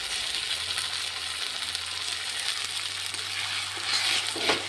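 Chopped onions fry in a pan while being stirred, a steady broadband sizzle with soft scraping throughout, a low hum beneath, and a brief louder clatter near the end.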